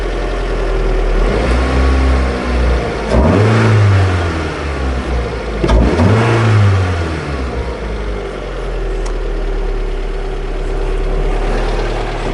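A Honda CR-V engine running after repairs, with a steady idle broken by two loud throttle blips that rise and fall, then settling back to a smooth, even idle.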